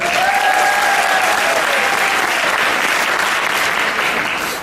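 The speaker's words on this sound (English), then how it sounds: "Another round of applause." Loud, full applause from a festival crowd at a steampunk fashion show, cheering a live band, with a couple of whistles early on, holding strong throughout before easing slightly at the end.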